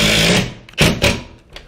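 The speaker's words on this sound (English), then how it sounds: "You can feel it when the head of this bolt starts sucking in, it's just hammering hard." Impact power tool hammering a lag bolt into a wall while installing a TV wall mount, a loud sustained rattling burst that cuts off, followed by two shorter hard hammering bursts and a faint final tap.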